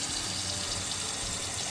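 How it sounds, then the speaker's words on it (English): Cilantro is rinsed in a bowl of water, heard as a short, continuous burst of running, splashing water close by. "I'm just gonna rinse it in a bowl of water."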